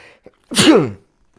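One sharp, close sneeze bursts out in near silence, preceded by a faint intake of breath.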